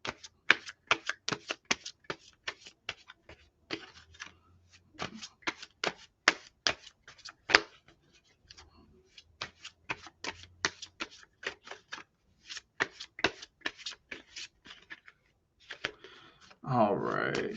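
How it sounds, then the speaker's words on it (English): Tarot cards being shuffled by hand close to the mic: quick bursts of crisp riffling clicks and flutters, stopping and restarting in uneven runs, with a brief voice at the very end. "let me give this another couple of decent shuffles"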